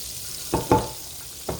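Bread dipped in batter fries as French toast in a skillet, giving a steady close sizzle with three soft clattering bursts from handling the slices.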